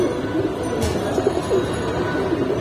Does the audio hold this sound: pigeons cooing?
yes